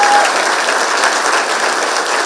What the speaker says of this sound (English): why did you give me this big round of applause?